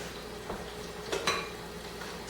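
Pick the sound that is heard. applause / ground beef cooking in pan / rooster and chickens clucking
ground beef cooking in pan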